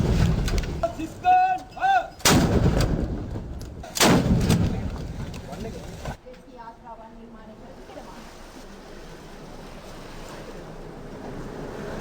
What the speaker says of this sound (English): A 25 gun salute was extended in honor of the nation.